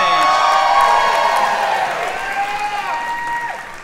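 A studio audience at a dating show applauds and cheers as Kate walks onstage, loud dense clapping with whoops that slowly thins out, while a host's voice rises over the crowd.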